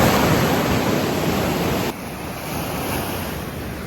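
Mediterranean sea waves breaking on the shore at Tarragona, Spain, on an overcast day. A steady, loud, close wash of surf and wind fills the clip, dropping slightly in level partway through, with no voices.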